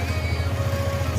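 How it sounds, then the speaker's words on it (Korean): A motorcycle engine idles steadily nearby, a continuous low rumble with a faint whine above it and no speech over it. "엔진소리 잘 들리죠?"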